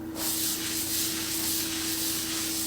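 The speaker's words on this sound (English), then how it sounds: "you pull out your trusty Liebman scrub broom" A Libman scrub broom scours a dirty tiled floor with Pine Oil cleaner. The bristles make a loud, continuous, close-up hissing scrub with no pauses, over a low steady hum.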